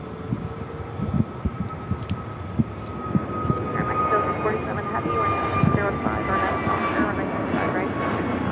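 An American Airlines jet airliner in Flagship Valor livery arrives at LAX from Dallas Fort Worth, its steady engine roar swelling and holding with a rising whine, loud and close, while people talk over it.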